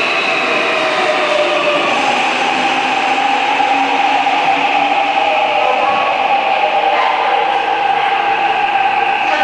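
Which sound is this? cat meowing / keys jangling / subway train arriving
subway train arriving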